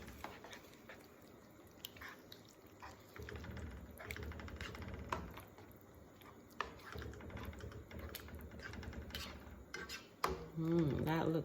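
Pasta is stirred into a tomato, garlic and onion sauce in a pot, making soft, irregular clicks and scrapes of a utensil against the pan, quiet and close, with no one speaking.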